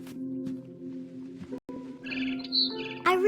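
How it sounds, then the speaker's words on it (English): Barn swallow chirps in What Remains of Edith Finch, bright high calls and a rising trill near the end over a steady low game hum, with a brief silent gap midway. "It was a barn swallow going back to her nest."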